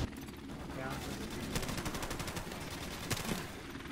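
Call of Duty Modern Warfare Remastered gunfire crackling in fast repeated bursts, like automatic weapons trading shots, steady and fairly loud over busy game noise, with a player talking on top.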